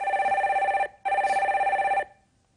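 A telephone rings twice in a studio setting as the next caller is put through, two clear, close electronic trills with a short pause between them, and no voices over them.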